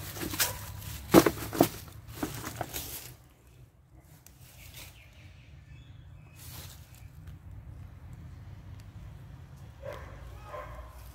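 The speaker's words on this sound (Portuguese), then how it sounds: "Cachorro latindo." A dog barks several times in quick bursts near an abandoned house, fairly close, then the scene drops to a quiet outdoor hum with faint distant sounds.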